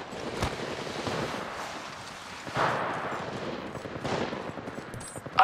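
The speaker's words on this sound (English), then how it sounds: "I am taking fire, friends." Automatic gunfire in the video game Apex Legends, loud, close bursts rattling almost nonstop with sharp cracks standing out above the constant firing.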